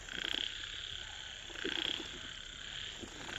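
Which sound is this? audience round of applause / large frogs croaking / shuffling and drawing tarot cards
large frogs croaking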